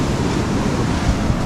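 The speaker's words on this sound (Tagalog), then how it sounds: "Nataog na ang dagat." Sea waves at high tide wash steadily along the shore, a broad continuous roar with a rumbling low end and some wind buffeting the microphone.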